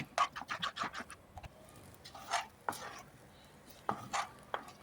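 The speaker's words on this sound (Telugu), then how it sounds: "ఇలా ఒక స్టీల్ రింగ్ని తీసుకొని దానిలో నట్స్ దంచుకుంటే అటు ఇటు చెదిరిపోకుండా ఉంటాయి" Nuts pounded inside a steel ring for ragi thopa, a close series of sharp irregular knocks and thuds, some in quick bursts, others spaced apart.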